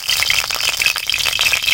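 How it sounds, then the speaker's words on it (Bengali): Water drops hitting hot mustard oil in a kadai over a village wood stove, setting off a loud, busy spatter of sharp crackles and pops that runs without pause for nearly two seconds. "হাতে জল ছিল, তেলের উপরে পড়ে যাওয়ার জন্য অত শব্দ হচ্ছে।"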